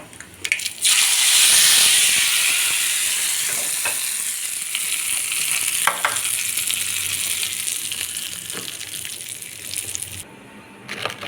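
Cumin, mustard seeds and curry leaves sizzle loudly in hot oil as a tempering for punugulu brinjal chutney, a steady bright crackle that swells early then holds, with a few sharp pops and clinks, no voices.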